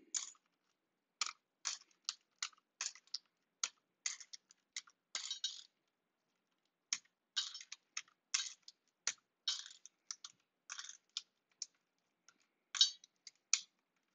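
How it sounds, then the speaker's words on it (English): Keycaps being pried off a lubed, band-aid-modded GMK 9009 mechanical keyboard on a YD60BLE board in a KBDfans Tofu case, heard as a series of crisp, separate plastic clicks and snaps in irregular rhythm, close and fairly quiet, with no talking. "This is how you take out keycaps, guys."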